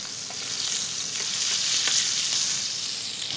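Duck fillet sizzling steadily in a hot pan over lowered heat, a continuous bright frying hiss with faint crackles, close and alone without talk.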